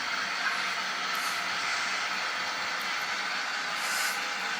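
A sound-equipped locomotive on an American-outfitted model railway produces a steady, even hiss and soft rumble that carries on for the whole stretch, moderately loud and unbroken, with no talking.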